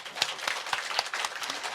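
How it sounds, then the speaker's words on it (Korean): Elderly members of a church congregation clap for the young people, a sparse, ragged run of individual claps with a steady rhythm, moderately close and fairly soft. "우리 연세 드신 분들 청년들을 위해서 박수 한번 쳐주십시다"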